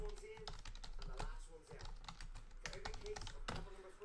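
Close, quick typing on a computer keyboard, with rapid irregular key clicks and a few heavier strokes under a faint background hum, sounding like someone entering a search at a desk.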